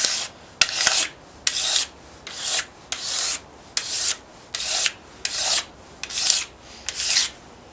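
Old finish being scraped off a wooden Acoustic Research AR11 speaker cabinet with a straight razor, a close, steady series of about eleven rasping strokes at an even rhythm, each a bright scratchy swipe followed by a brief pause.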